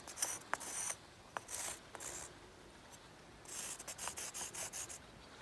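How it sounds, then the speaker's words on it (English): Brick scraped against stone while drawing outdoors at a beach, giving several short gritty rasps in bursts with pauses between, close and fairly quiet, with no voices. "nobody at home has an issue with the sound of stone grinding on stone."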